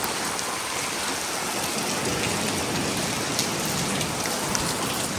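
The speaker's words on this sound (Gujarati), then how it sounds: "સો આ વૈધો વરસાદ વૈધો, બહુ વરસાદ વધી ગયો હતો." Heavy monsoon rain pours down in a dense, unbroken hiss, steady and loud throughout with scattered closer drops hitting surfaces, and no voices.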